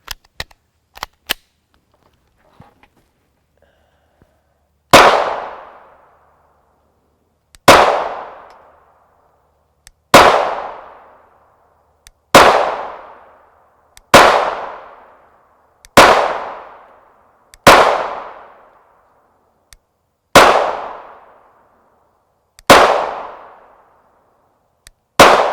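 Shots from a Glock 19 Gen 4 MOS pistol fired outdoors: loud, sharp single reports with decaying echoes, about nine in a steady, evenly spaced series, preceded by a few faint handling clicks.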